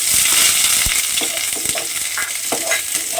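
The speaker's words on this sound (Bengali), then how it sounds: "তেলটা আমার গরম হয়ে গেছে। আমি প্রথমে এর মধ্যে দিয়ে দেব এখানে একটা পেঁয়াজ" Finely chopped onion frying in hot oil, a loud steady sizzle with light stirring clatter, close and without talk.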